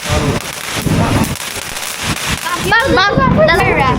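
Fourth of July fireworks crackle and pop at a family celebration, with bursts and whistling trails close by, mixed with voices talking over them.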